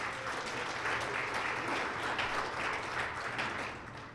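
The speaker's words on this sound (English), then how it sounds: "Please give the Carlisle a nice round of applause for hosting us today." An audience at a 2022 chamber of commerce luncheon and business expo held at the Carlisle claps steadily, a dense wash of applause that holds for several seconds before tapering slightly at the end.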